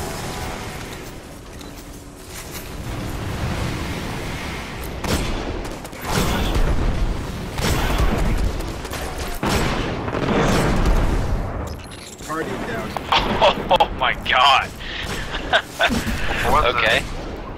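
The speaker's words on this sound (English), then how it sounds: "There's people shooting fireworks in my neighborhood" Fireworks bang repeatedly outside in a residential neighborhood, several loud sharp booms spread irregularly across the stretch and mixed with a background of game sounds.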